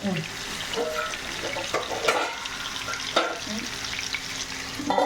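Pomfret fish frying in hot oil with curry leaves in a covered pan, giving a steady, close sizzle and crackle throughout with a few louder pops and spatters.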